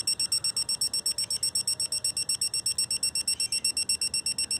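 A digital torque wrench on a Chevy 4.3L engine rebuild beeps in a fast, steady series of high, evenly spaced pulses, near and clear, as the bolt is tightened toward 20 foot-pounds.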